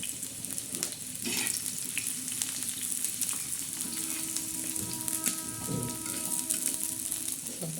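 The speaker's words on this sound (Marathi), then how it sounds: "दोन डबक्या तेल टाकल्यावर असा कांदा टाकायचा" Chopped onion sizzles and fries steadily in a little oil on a hot griddle pan while egg bhurji is being made, a continuous near crackle with small stirring scrapes throughout.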